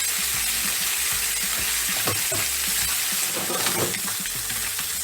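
Seabass and spicy vegetables fry in a hot pan with a dense, steady sizzle, with occasional stirring knocks and a faint steamy hiss underneath.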